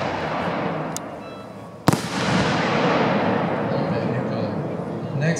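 A Lido 4-inch new color peony firework shell bursts with one sharp, loud bang, followed by a long crackling hiss as it fades. Crowd murmur and outdoor noise continue underneath.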